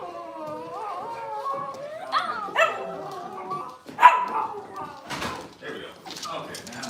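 Several Cavalier puppies in a pack of dogs bark, yip and whimper close by on a rainy morning before going outside, with a person speaking to them between the sharp barks and a door sound.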